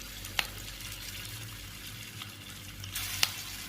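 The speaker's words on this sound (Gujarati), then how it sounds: "મીડિયમ ગેસે આને તળી લેવાનું. હલાવતા જવાના. તળતા જવાના." Stuffed chillies frying over a medium gas flame in a pan, a steady soft sizzle with a couple of sharp clinks from stirring, close and fairly quiet, no talk.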